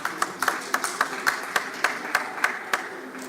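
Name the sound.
audience applause for the panelists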